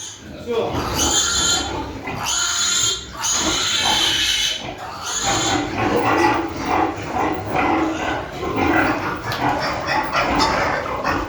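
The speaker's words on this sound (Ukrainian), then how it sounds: "Поросюхи трохи кипішують." A sow and her piglets grunt and squeal at a farm during weighing, with shrill piglet squeals and low grunting close by and restless, while someone talks over them.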